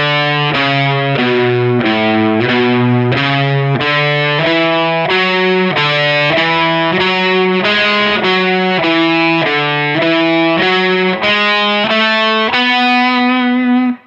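A distorted electric guitar plays an alternate-picking scale exercise, with evenly spaced picked notes stepping up and down the scale at a slow, steady pace, loud and close, ending on a held note.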